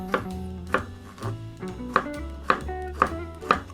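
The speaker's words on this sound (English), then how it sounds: "We're gonna dice our cucumber." A knife dices cucumber for gazpacho on a cutting board, with seven crisp, evenly spaced chops landing about every half second, close and clear with no talking.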